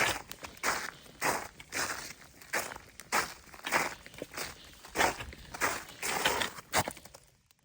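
A hiker's boots crunch steadily along a trail, about two even footsteps per second, close and distinct with a gritty crushing texture and no talking.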